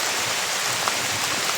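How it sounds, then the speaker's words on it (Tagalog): Heavy rain pouring down as a dense, steady hiss of water, loud and unbroken, with no voices over it. "sobrang lakas ang ulan"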